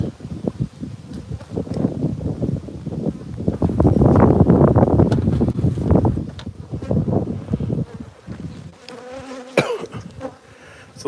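Bees hum in a dense, continuous drone around an opened beehive, the buzzing swelling louder midway and mixed with gusting wind rumble.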